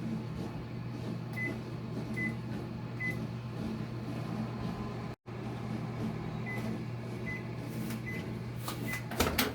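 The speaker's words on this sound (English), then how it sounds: "you place it in the microwave for about 30 seconds." A microwave oven hums steadily while heating a cup about half full of water, with a constant low drone, faint electronic pips and light rattles near the end.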